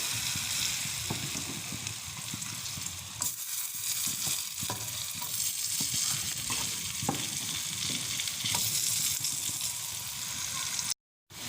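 Battered fish sizzles and crackles steadily in hot oil for fish and chips, a loud, continuous frying hiss with occasional sharper pops and stirring clatter, cut off by a brief silence near the end.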